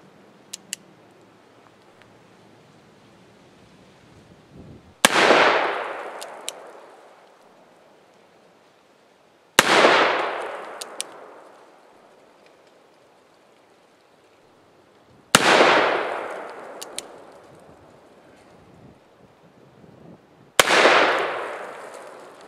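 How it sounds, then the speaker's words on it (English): Four loud revolver shots from an Uberti Russian top-break revolver fired at bottles outdoors, evenly spaced about five seconds apart, each a sharp crack followed by a long, decaying echo, with no talking. "I kind of feel obligated to shoot some bottles."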